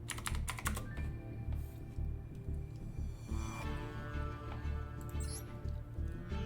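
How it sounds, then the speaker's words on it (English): Someone types on a computer keyboard, a close, rapid run of clicky keystrokes in uneven bursts with occasional mouse clicks, heard alone without speech. "let me type the ID in to be safe here"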